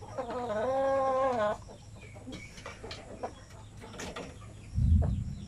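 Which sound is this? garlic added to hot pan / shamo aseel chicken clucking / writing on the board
shamo aseel chicken clucking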